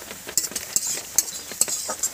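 A spoon stirs asafoetida into onions frying in a pan for a rui fish kalia, with quick, close metallic scrapes and clinks over a soft sizzle.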